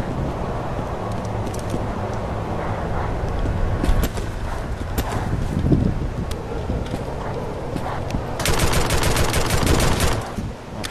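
Gunfire in the zombie shooter Left 4 Dead 2 on a custom map at realism expert difficulty, scattered shots and rapid automatic bursts over a constant windy game rumble, loudest toward the end.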